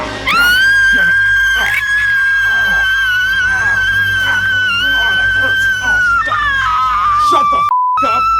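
A loud, sustained horror movie scream from the turkey slasher film Thankskilling, a high piercing wail holding for several seconds before breaking off abruptly, with a short beep near the end.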